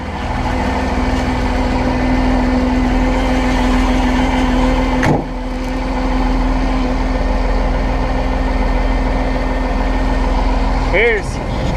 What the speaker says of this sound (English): Let this truck warm up for a little bit.